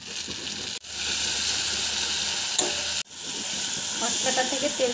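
A spice paste with tomato fries for a shrimp gravy in a loud, dense, continuous sizzle that cuts out twice, as if the lid goes on and off. A few faint stirring clinks come near the end, heard up close with no talking.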